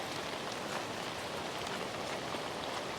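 Steady, dense rain falling on surfaces at a riverside park, a constant hiss of drops with no voices.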